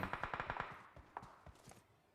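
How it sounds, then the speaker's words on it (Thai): Rapid automatic gunfire in the mobile battle-royale game PUBG Mobile, a tight burst of about eight close, loud shots followed by a few scattered single shots fading off. "เสียงปืนนะ"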